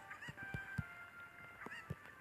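Cucco chickens in the Zelda game Ocarina of Time give a string of short, bright squawking clucks in an irregular rhythm, quiet and alone without talk.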